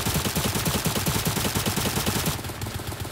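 Rapid automatic gunfire in the video game Cyber Hunter, a loud dense stream of regular shots for about two seconds that then eases into a busier, softer clatter, with no talk.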